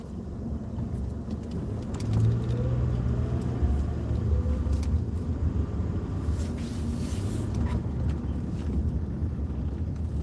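A car drives along the road, heard from inside as a steady low engine and road rumble with wind noise and occasional shifts in pitch, continuous and moderately loud with no talking.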